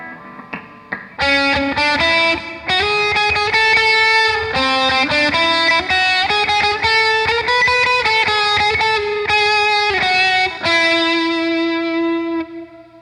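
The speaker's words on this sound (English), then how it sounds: "You can hear the halo effect add some really high octave chimey sounds on top of the reverb." Electric guitar chords ring out through a reverb pedal's halo setting, bright high-octave chimes shimmering above a sustained wash of reverb, played loud and steady with a long fading tail at the end.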